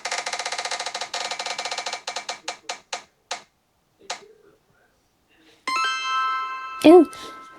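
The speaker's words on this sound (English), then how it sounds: "All right, I'm gonna spin the wheel for our first one." A spinning wheel of fate clicks rapidly at first, its ticks slowing and spacing out until they stop, followed by a short bright chime.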